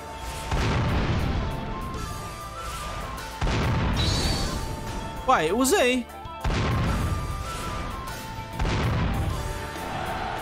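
Several heavy booming cannon blasts in Warriors Orochi 3 in a row with brief gaps between them, each loud and followed by a short rumble, with a voice speaking briefly in the middle.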